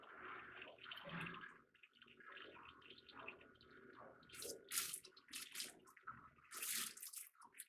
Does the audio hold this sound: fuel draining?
yes